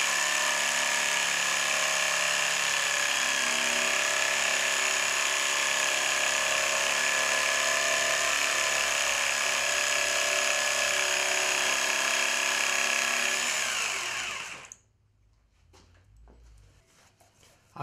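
Pallet wood being cut with a saw at steady, even pressure: a continuous, loud rasping cut that runs for about fifteen seconds, then stops abruptly, leaving near silence.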